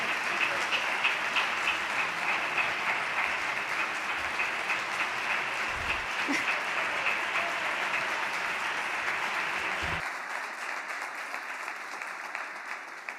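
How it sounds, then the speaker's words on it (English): Big round of applause from a large audience at a business event's closing ceremony, dense even clapping sustained for about ten seconds before thinning out into scattered claps. "A big applause for them as well."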